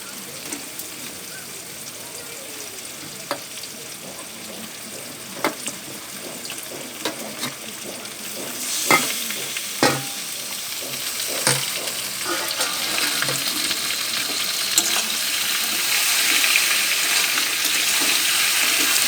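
Chicken pieces hit a hot pan of reddened spice base and fry with a steady, close sizzle, broken by sharp spatula clicks and stirring scrapes that grow busier and louder toward the end.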